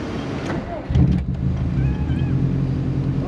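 A 2004 Subaru WRX STI engine idles with a steady low rumble, close by, with some wind buffeting and faint background sounds.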